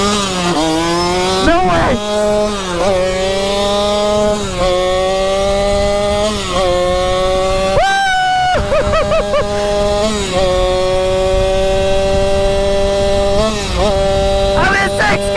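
A gas-engined Sur-Ron dirt bike, converted from electric, revs hard and loud in close, with rising and falling gear-change sweeps and a brief drop in the middle; excited voices shout over the engine.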